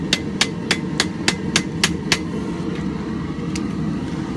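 Hot axe steel is struck on the edge of an anvil in a quick, evenly spaced series of eight sharp ringing hammer blows, then a pause and one more strike, all over a steady low rumble.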